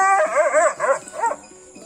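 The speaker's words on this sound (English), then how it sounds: "When we approached him, he was growling." A frightened stray dog found inside a living room vocalizes close by in a short burst of whiny, strained growling and whimpering that rises and falls, then trails off.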